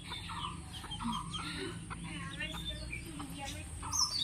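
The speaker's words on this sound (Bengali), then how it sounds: "এইদিকে দেখো মুরগিগুলো সব ঘুরে ঘুরে বেড়াচ্ছে" Chickens roaming around a rural yard give soft, scattered clucks, faint and somewhat distant, with a few sharper calls near the end.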